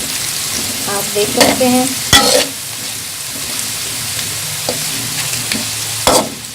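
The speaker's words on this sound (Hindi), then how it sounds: "आलू हमारे ऑलमोस्ट सोटे हो चुके हैं, थोड़ा सा हम इनको और पकाएंगे" Potatoes sauté in a pan with a steady frying sizzle, broken by a few sharp scrapes and clatters of stirring, and a short stretch of speech partway through.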